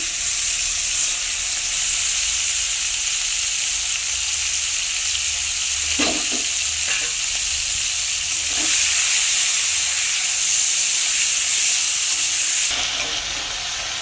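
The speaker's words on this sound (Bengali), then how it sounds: "চিংড়ি মাছটা একটু হালকা করে ভেজে নেব" Prawns frying lightly in oil, a strong, even sizzle close by, broken by a few sharp spatula taps and scrapes in the middle; no one speaks.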